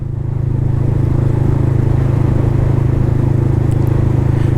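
A Yamaha R15 M motorcycle with an Akrapovič exhaust cruises at a steady pace, its engine a continuous, close, even drone with wind rush.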